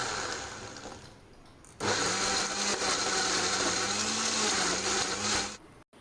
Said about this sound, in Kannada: ಒಮ್ಮೆ ಬೆಲ್ಲ ಮತ್ತು ಕರ್ಬೂಜದ ಹಣ್ಣನ್ನು ಮಿಕ್ಸಿ ಮಾಡಿಕೊಂಡು